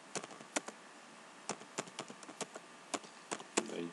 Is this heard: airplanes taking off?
no